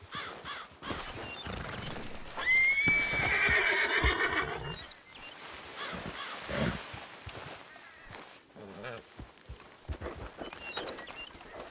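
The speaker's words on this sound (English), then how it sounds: "where should we hitch our horses?" Horses neigh and whinny loudly in the RedM western game, a prominent drawn-out whinny rising midway, with hoof clip-clops, crow caws and brief muffled speech around it.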